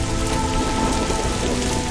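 Steady rain falls in the Gobi desert during its June-to-August rainy season, a dense continuous patter of drops on dry ground, loud and unbroken from start to finish with no voices.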